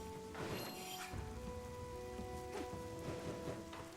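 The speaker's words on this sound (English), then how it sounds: "Oh, it is raining." Constant rain patters on a surface in the video game Muramasa: The Demon Blade, steady and moderate, with faint tonal music-like hums running underneath.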